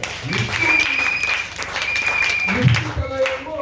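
A church congregation breaks into applause, a steady dense clapping over a few seconds, mixed with a voice speaking and a sustained tone on top.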